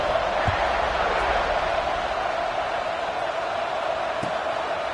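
Broad, steady roar of a football stadium crowd during a fourth-quarter kickoff, loud and continuous throughout.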